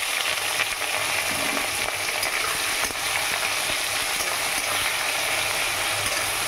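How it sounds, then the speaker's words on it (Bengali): Onions sizzle steadily in hot oil seasoned with cumin, cardamom, cloves and bay leaf, a loud, close, continuous frying hiss with occasional stirring scrapes. "এই পেঁয়াজটা লাল লাল করে ভেজে নেবো।"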